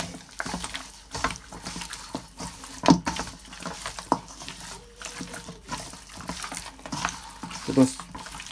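Hands rub garlic powder, paprika and all-purpose seasoning into raw chicken and vegetables, making soft, continuous wet squishing and rustling with a few sharper clicks, close and fairly quiet.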